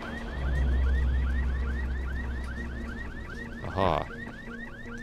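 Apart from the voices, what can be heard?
car alarm, from video game Dying Light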